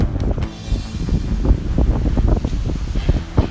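Hurricane-force wind roars across a clifftop in Crimea above a stormy sea, a loud, continuous buffeting rush with heavy surf churning underneath and gusts thumping into the microphone throughout.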